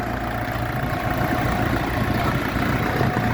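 A Jinma 404 four-cylinder diesel mini tractor idles steadily nearby, a low, even rumble with a faint mechanical rattle and no voices.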